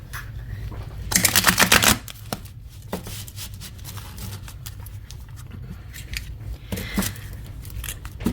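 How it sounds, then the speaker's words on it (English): Two bursts of rapid riffling card shuffles, the first loud and fluttering for about a second, the second shorter near the end, over a low steady hum. "Let me shuffle the cards"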